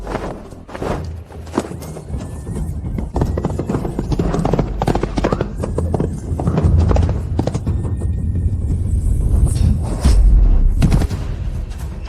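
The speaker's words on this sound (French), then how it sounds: "Monte à cheval et poursuis." Horse hooves clip-clopping at pace on hard ground, loud and close, a rapid repeated clatter with occasional heavy thuds and a whinny amid dramatic action sounds.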